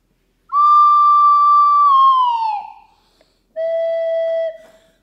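Flute sounding a long, steady low note that bends downward and fades, then after a short gap a second, shorter lower tone; close, clean and unaccompanied.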